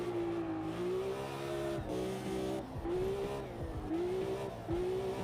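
Racing car from an older era driven at speed in the sim racer Automobilista 2, its engine droning steadily at high revs with rising pitch sweeps between gear changes and brief dips, loud and continuous throughout.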